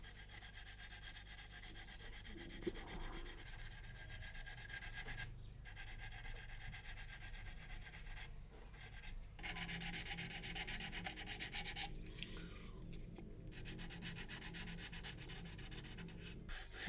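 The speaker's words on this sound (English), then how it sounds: "I'm going to make sure that the mould seam is clean" Sanding along the mould seam of a plastic 1/32 Kotare Spitfire Mk1a model kit part, a steady close rubbing scrape that runs continuously with brief pauses, no talking.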